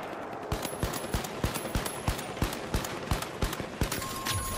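Repeated blasts from a CL-40 grenade launcher in the video game The Finals, a steady run of sharp, punchy bursts at an even rhythm, loud and close.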